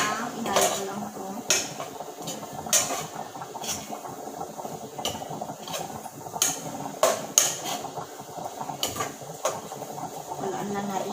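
A utensil stirs adobong karne in a metal cooking pot, sending repeated sharp clinks and scrapes against the sides in an irregular rhythm. The sounds are close and fairly loud, with a faint simmering hiss underneath.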